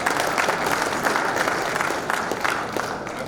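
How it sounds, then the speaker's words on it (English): Steady applause from a crowd at an annual assembly of registered quantity surveyors, a dense, even patter of many hands clapping at fairly close range without pause. "Please clap for it."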